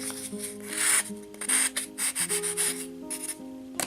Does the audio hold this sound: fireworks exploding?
no